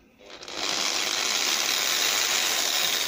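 A cut-off grinder is switched on and spins up within half a second into a steady, loud, high-pitched whine that holds evenly without talk.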